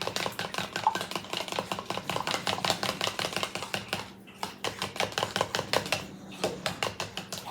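Sweet potato casserole mixture is mixed briskly in a bowl, giving rapid, regular tapping and scraping strokes that run close and steady, with one short pause midway and no talking.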